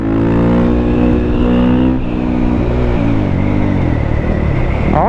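A 2017 KTM 450 EXC-F dirt bike engine roars loudly in fifth gear while being ridden, a steady high-pitched drone that rises slightly and dips near the end, close and dominant with no talk.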